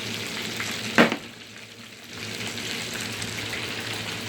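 Puerto Rican sofrito frying in a hot pan for chicken with yellow rice, a steady close sizzle with a sharp burst of spatter near the start, then settling into constant hiss.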